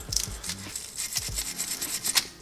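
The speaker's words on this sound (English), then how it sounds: "Take a wire brush." A wire brush scrubs stainless spring clips from the front brake calipers of a 2018 Subaru Crosstrek, making short, close, rasping strokes in uneven bursts.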